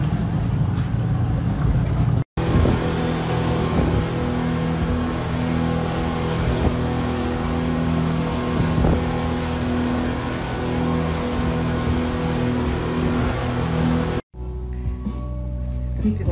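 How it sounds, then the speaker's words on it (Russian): Steady, loud engine drone of a small boat carrying a passenger in a life jacket out to an island resort, constant motor hum and rushing wind filling the whole stretch, cut off briefly near the start and end. "я уже на лодочке, на меня надели спасательный жилет"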